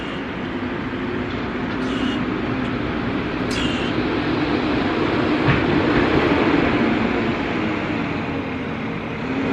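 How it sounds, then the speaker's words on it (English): A truck in the background holds a steady, broad mechanical rumble with a few faint clanks, loud and constant throughout, with no one talking over it. "the truck is making noise in the background"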